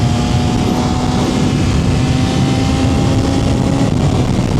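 A 2025 BMW S1000RR motorcycle cruises during its break-in ride, its engine a steady, loud drone held below a limited redline. Strong wind rush blends with the engine hum, and no voices are heard.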